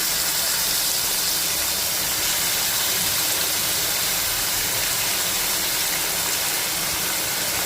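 Peeled, washed potato pieces dropped into hot tempering in a pan, producing a loud, steady, close hissing sizzle that stays constant throughout with no talking.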